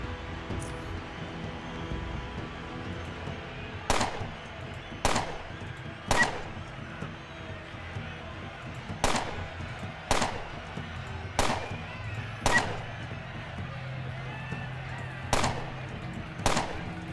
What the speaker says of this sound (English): And we'll just start shooting.